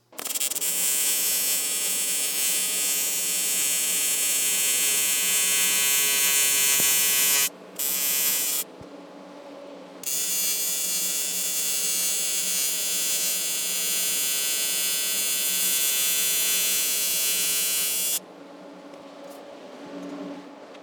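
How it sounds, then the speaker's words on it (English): An aluminium roll cage for a 50cc kart is welded at a workshop table: a loud, continuous electric buzz runs for long stretches, broken by a couple of short pauses and easing to a quieter hum near the end. "let's take it over to the table and start welding."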